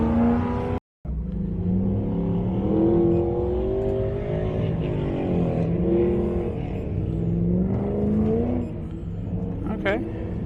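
A car engine fitted with a Killshot II cam runs rough and lumpy, its deep rumble rising and falling in pitch with throttle blips, loud and close, with voices talking over it.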